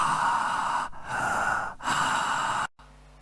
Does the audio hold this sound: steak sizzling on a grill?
no